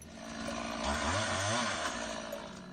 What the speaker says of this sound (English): that's a chainsaw Roland is using in his park